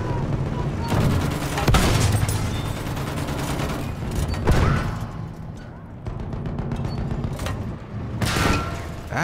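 Battlefield 1 Rush gameplay with bursts of gunfire and booming explosions. The shots come in rapid fusillades, heavy impacts punctuate them, and players' voices sit faintly beneath the combat.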